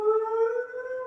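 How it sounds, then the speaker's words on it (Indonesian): Ambulance siren holding a steady wailing tone, loud and near, sounding alone for about a second. "jebule suara ambulan"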